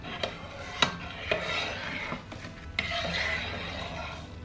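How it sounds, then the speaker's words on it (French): A utensil clinks and scrapes against a pot while milk is stirred with citric acid water for mozzarella, a few sharp knocks followed by rougher swirling rubs, close up with no voices. "Et maintenant, j'ajoute l'eau avec l'acide citrique et je mélange ça."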